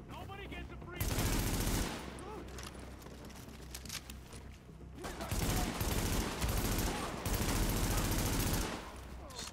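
Bursts of automatic gunfire from the video game Tom Clancy's The Division, loud sustained volleys broken by short pauses, with a voice talking faintly in between.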